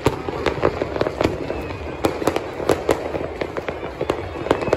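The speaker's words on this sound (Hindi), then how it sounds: "आतिशबाजी हो रही है।" Sharp fireworks pop and crackle repeatedly at irregular intervals during the Makar Sankranti kite festival in Jaipur, some close and loud, others more distant, over a constant background din.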